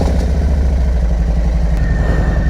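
A motorcycle ridden on roads in northern New York, its engine running in a steady, loud, low rumble with a continuous clattering pulse throughout, close by and with no talking.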